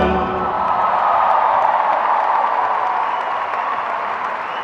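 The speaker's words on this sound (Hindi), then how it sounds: "इसके लिए बजाओ ताली" A live-show audience at a concert breaks into dense, sustained applause, a thick wash of many hands clapping at once with faint cheering inside it, loud and continuous throughout.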